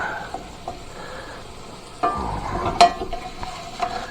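Meat and vegetables fry in a cast iron skillet, giving a soft continuous sizzle broken by close scraping and stirring, with one sharp metallic scrape near the middle.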